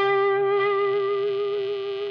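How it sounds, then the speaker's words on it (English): An electric guitar through a Wampler Germanium Tumnus pedal with the gain cranked all the way up holds a single smooth, saturated lead note with slight wavering vibrato, loud and alone. "The last setting I'd go for would be sort of like a lead, smooth distortion."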